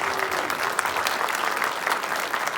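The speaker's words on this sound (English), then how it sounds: "Give a huge round of applause to these fine fellows." A premiere audience applauds the makers of the film Chains Of Redemption, giving a short, steady burst of clapping from a packed room with no speech over it.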